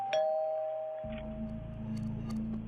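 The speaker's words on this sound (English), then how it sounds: "and then I heard the doorbell ring." A Ring doorbell at a home sounds a clear chime, and a sustained buzzing drone follows about a second later and continues to the end.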